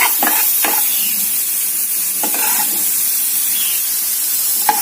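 Onion frying in a pan, a loud continuous hissing sizzle with a few faint clinks of stirring, no talking.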